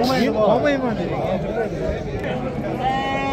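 Lambs and goat kids bleat repeatedly nearby at a Friday livestock bazaar in Pastdargom, Samarkand, with wavering high cries overlapping one another while a person talks over the flock.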